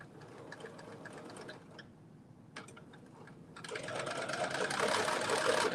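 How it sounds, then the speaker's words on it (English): A sewing machine stay-stitches around a bodice neckline, running in quick mechanical bursts with a short pause and a click, then picking up a louder, faster steady whir toward the end. "I'm just doing my stay stitch around the bodice neck between the dots"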